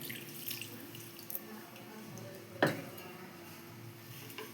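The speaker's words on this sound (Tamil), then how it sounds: "உப்பு தண்ணியை ஊற்றி" Salted water trickles and pours softly into flour for kolukattai, faint and close with a small splash midway and a few light clinks, no speech.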